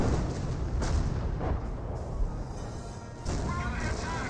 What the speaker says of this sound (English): Cromwell is seeing some cannon fire from the Panther, but does roll a bunch of misses there.